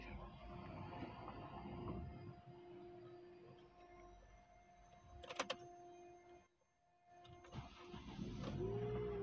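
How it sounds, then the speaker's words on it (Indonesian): A 2003 Honda Stream 2.0 automatic engine cranks and catches after a brief key click, settling into a steady idle with a faint electronic whine. "mesinnya dinyalakan"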